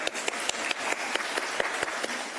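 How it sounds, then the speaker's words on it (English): Audience members at a county community meeting applaud, a thin scattering of distinct claps from a small crowd, steady for a couple of seconds with no talking. "we can applaud for that"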